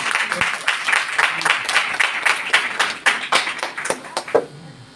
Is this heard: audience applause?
yes